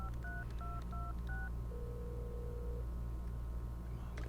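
Phone keypad tones in the video game Adios, a short run of paired dual-tone beeps followed by one longer steady tone over a low background hum.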